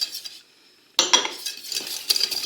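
Béchamel sauce with an egg yolk stirred in a pan: a brief scrape, a moment of near silence, then brisk clinking and scraping of a utensil against the pan with soft bubbling.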